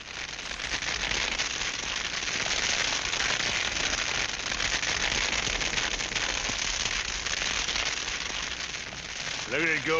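A dry brush fire burns outdoors near a wagon, giving off a dense, continuous crackle and hiss that stays loud and even throughout, with a brief tonal sound near the end.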